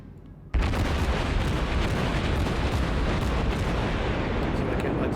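Naval gunfire in the video game World of Warships, a sudden loud blast opening into a dense, rumbling barrage that keeps roaring continuously.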